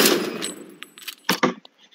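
Minigun fire in the browser shooter Kuner.IO, a loud opening burst that trails into scattered sharp metallic cracks and clinks, with no voices.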